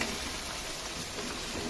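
Mutton and chillies roasting in a hot karahi pan for Balochi mutton tikka, an even, continuous sizzle with faint hissing and no talk.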